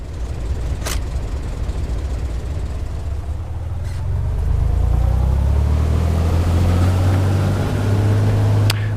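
Engine of an A2A Simulations Cessna 182 in the Prepar3d flight simulator on its takeoff roll, a steady broadband rumble that swells and deepens into a loud sustained drone after a few seconds, with a couple of faint clicks.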